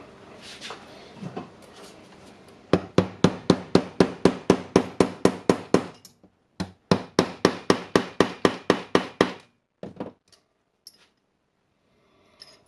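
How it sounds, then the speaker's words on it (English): Metallic hammer blows driving bearings into a Makita oscillating multi-tool land in fast, even bursts of about a dozen strikes each, separated by a short pause, close and loud, then a few scattered taps. "For the bearings, we can hammer them or can use the sockets"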